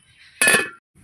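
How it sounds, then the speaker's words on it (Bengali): A metal lid is set onto a cooking pot holding boiled soybeans soaking in hot water, giving one bright clanking clink with a short ringing tail, close and fairly loud, with no talk. "দিয়ে দেবো ঢাকা"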